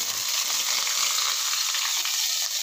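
Onions frying in a pan, a dense, steady hiss of sizzling oil held close and loud without a break for the whole stretch, for a dish of bamboo shoots with shrimp in coconut milk.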